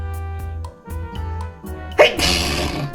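A single loud sneeze bursts out about two-thirds through, after background talk and harmonic music in a home setting.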